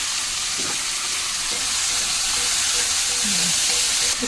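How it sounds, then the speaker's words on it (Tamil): Curry leaves, onion and tomato frying for prawn gravy, giving a loud, continuous hiss and sizzle of hot oil that holds steady throughout with faint stirring clinks and no talking. "கருவேப்பிலை, வெங்காயம், தக்காளியும் போட்டுருங்க."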